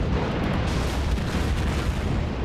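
Battleship guns of the USS Wyoming rumble in World of Warships, a dense, steady low roar of distant gunfire and explosions through the whole stretch with no clear single shot standing out.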